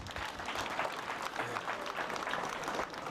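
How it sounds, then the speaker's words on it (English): An audience claps steadily throughout at a school brain-challenge event, thanking the patrons; dense, continuous applause from a crowd with no pause. "Clap for them"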